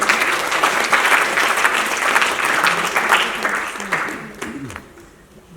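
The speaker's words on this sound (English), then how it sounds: "It's a big round of applause to UNFPA" An audience at a national media and advertising awards ceremony breaks into sustained applause, a thick wash of clapping that holds steady and then thins out near the end, with a voice briefly audible underneath.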